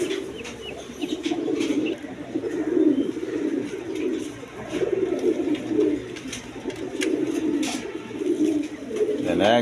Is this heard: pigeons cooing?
yes